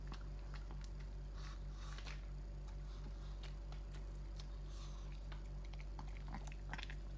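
A Shih Tzu chewing a snack, quiet close-up munching and biting with soft wet squishy sounds over a low steady background hum, no talking.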